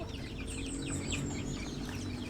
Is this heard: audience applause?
no